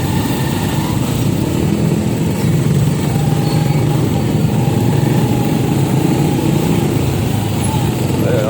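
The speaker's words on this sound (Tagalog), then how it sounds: "kaya tingnan mo ang traffic dito sa kanto na to" Cars and motorcycles stream past a busy street corner near several subdivisions, a continuous loud engine drone with small engines whining close by, and someone talking over the traffic.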